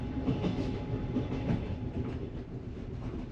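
Russian-built first class sleeper train running on rails at night out of Yerevan, Armenia, with a steady low rumble and rhythmic wheel clatter heard from inside the cabin, continuous and moderately loud with no talking.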